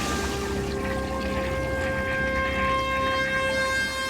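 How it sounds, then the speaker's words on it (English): Several toilets flush together in a test flush cycle, a steady rush of pouring water with high whistling refill tones, continuous and fairly loud with no talk. "We're just in a flush cycle now."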